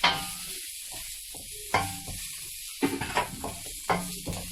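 Ginger, garlic and onion hit hot oil in a pan, giving a steady close sizzle with a few sharp bursts and scrapes as the aromatics are stirred in.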